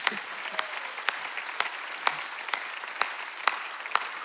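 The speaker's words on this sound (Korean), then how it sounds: "박수 치려면 세게 치라고" Steady applause from a congregation at a Sunday church service, a fairly faint, even patter with regular louder claps standing out at a slow beat.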